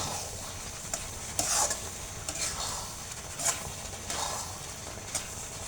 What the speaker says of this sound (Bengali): এটাকে এখন ভালো করে মিক্স করে নেব।